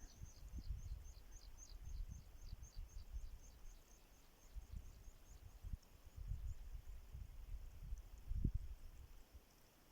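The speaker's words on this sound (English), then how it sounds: "And there's a few birds." Faint, distant birds chirp in short repeated bursts in the mountains over a steady rush of wind and low rumble, with no voices.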